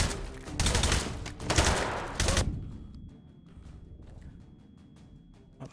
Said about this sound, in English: Oh, the flashbangs.